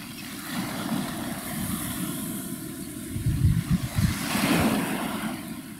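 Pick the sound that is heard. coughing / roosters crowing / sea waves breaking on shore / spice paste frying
sea waves breaking on shore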